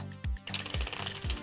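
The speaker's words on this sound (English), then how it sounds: "you don't want to watch the shuffling" Tarot cards shuffled by hand in three quick riffling bursts with soft thumps between, close and fairly quiet, with no talking.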